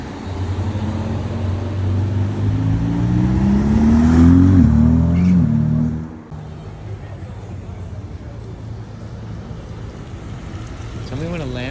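A Lamborghini engine revs loudly as the car passes close by on a street in Monaco, rising to a peak and then cutting away to steady traffic hum, with a voice calling out over it.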